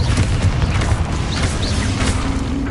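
An explosive spell goes off in Hogwarts Legacy, a loud, dense, rumbling burst that rolls on for a couple of seconds with crackling debris over it.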